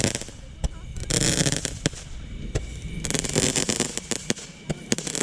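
A fireworks display that includes a Roman candle, with sharp cracks and pops bursting at irregular intervals over a crackling, hissing background, fairly distant, while people talk now and then.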